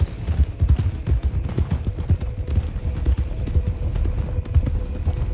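Horse hooves clip-clop steadily and close in a video game, a quick repeating gallop-like patter with a faint background hum.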